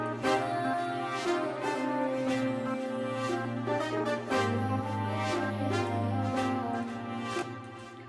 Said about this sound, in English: Session horns.